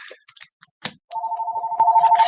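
A telephone rings in an office during a psychic card reading: a steady electronic warble that starts about halfway through and grows louder, loud and close, after a few soft clicks and rustles.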